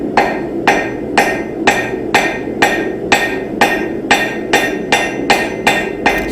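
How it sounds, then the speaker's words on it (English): Blacksmith's hammer striking hot steel while forging a seax blade, a dozen loud, evenly spaced ringing blows in a steady rhythm, close and alone. "You guys can hear the hammer."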